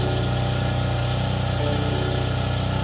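A small engine idles steadily with a constant, buzzing exhaust rattle from a BMW F80 M3 Competition, close and continuous with no voices.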